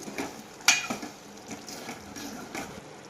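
A spoon stirs egg curry with garam masala and kasuri methi in a pan, making soft scraping and light clinking sounds, with a sharper tap near the start and a gentle sizzle underneath.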